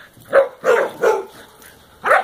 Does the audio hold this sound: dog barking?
yes